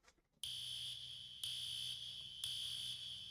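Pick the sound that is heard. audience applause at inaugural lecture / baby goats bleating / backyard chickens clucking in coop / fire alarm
fire alarm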